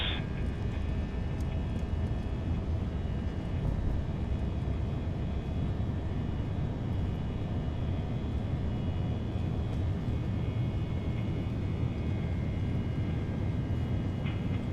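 Airliner engines roar at takeoff thrust during a departure from Denver in the X-Plane 11 flight simulator, a steady, heavy low rumble with a faint high whine holding constant throughout, no voices.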